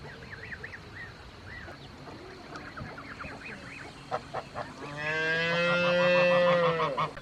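Calves and cattle mooing at milking time on a farm, with faint calls early on and then a loud, drawn-out moo close by, with geese honking in the background.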